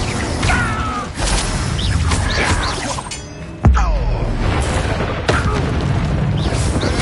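Spell effects booming in Hogwarts Legacy on PS5 as an Incendio fire spell is cast amid combat, with heavy thuds, a sharp impact near the middle and clattering game sounds throughout.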